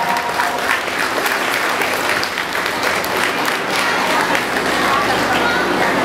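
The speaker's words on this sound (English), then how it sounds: "let's have a big round of applause for these clubs that are helping to support this charity" At a charity boxing event, a crowd applauds the supporting boxing clubs with loud, sustained clapping, cheers and chatter filling the hall evenly for several seconds.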